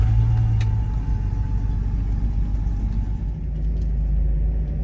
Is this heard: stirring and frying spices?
no